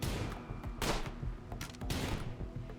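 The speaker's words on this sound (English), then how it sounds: "Ojas just got shot." Bursts of gunfire in the colony-building game RimWorld, rapid cracking shots in loud, overlapping volleys that continue steadily throughout.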